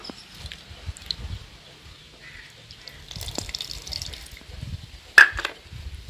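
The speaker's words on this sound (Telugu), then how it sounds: "చింతపండు వాటర్ కూడా పోసేసుకుందాం" Tamarind water poured into a pan while making tamarind chicken curry, a faint, uneven trickle with soft kitchen knocks and one sharper clink near the end.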